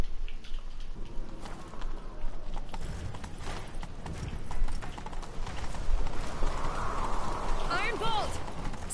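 Horse hooves gallop steadily in The Witcher 3, a fast rhythmic clatter of several horses pounding along close by over a low rumble, with faint game sounds near the end.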